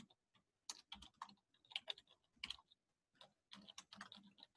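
Fingers type on a computer keyboard to enter a Zoom chat message, a quiet, close run of quick uneven key clicks in bursts with brief pauses, no voice.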